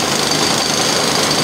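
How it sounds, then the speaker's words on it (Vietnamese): A jackhammer drilling anchor holes for a bridge abutment at a construction site hammers in a loud, continuous, harsh rattle throughout the short clip, close up and with no voices. "bên này cũng khoan hết lỗ neo"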